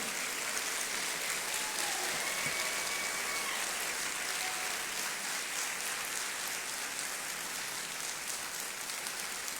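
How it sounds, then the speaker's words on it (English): Steady crowd applause rings through a Ghanaian citizenship ceremony as the Minister of the Interior is welcomed, a continuous dense patter of many clapping hands holding at an even level throughout with no voices over it. "please help me with another warm applause to welcome our Minister of the Interior"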